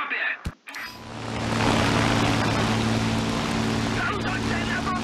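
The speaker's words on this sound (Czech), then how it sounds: "tak si vezmu letadlo do bitvy" Steady engine drone of a fighter plane heading into battle in a flight video game, a continuous loud hum with low tonal bands after a brief click at the start, with someone talking over it.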